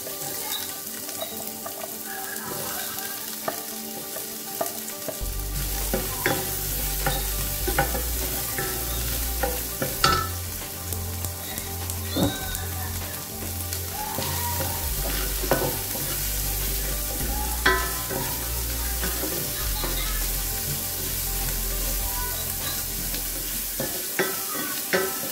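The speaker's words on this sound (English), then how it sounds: "In the pan, we have to put oil. Then we fry the onion." Onion fries in oil in a pan, a steady close sizzle with frequent stirring scrapes and clicks from a utensil, continuing throughout without talking.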